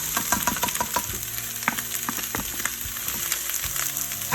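Celery, carrots and onions sautéing in olive oil in a soup pot, a steady close sizzle with scattered crackles and light stirring scrapes, no voices.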